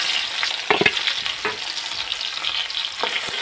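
Constant hiss and crackle of onions frying in hot oil in a kadai, with a few soft clinks of a spoon against the pan.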